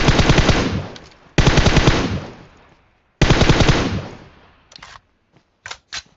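Machine gun fire in a video game, three long sustained automatic bursts each trailing off into echo, followed by a few short clipped bursts, loud and close with no talk.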